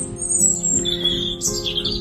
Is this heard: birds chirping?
yes